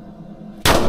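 A single loud gunshot goes off at an indoor shooting range, breaking a quiet background with a sharp blast that rings and echoes through the room for the rest of the moment.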